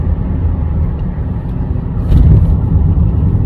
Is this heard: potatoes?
no